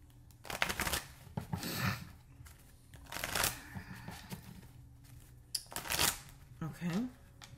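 Tarot cards being shuffled by hand in several bursts of soft riffling and slapping, moderately close, separated by short pauses and mixed with occasional speech.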